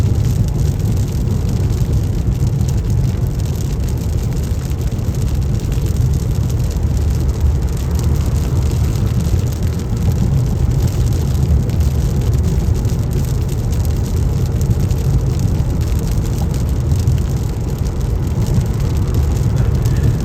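Heavy rain drums steadily on a moving car during a road trip through the United States, a loud, unbroken roar of rain and road noise for the whole stretch, with no voices.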